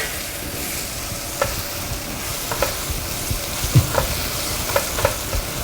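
Torch ginger (kecombrang), lemongrass, salt, sugar, Totole seasoning and kaffir lime leaves fry together in oil, giving a steady sizzling hiss broken by scattered taps and scrapes of a stirring utensil.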